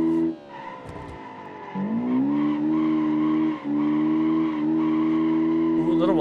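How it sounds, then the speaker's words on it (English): A drifting car in BeamNG scrapes along a wall on a mountain touge road, a grinding screech riding over a steady, loud engine drone with tire squeal, briefly dipping and then holding on. "Ooh, a little wall scrape."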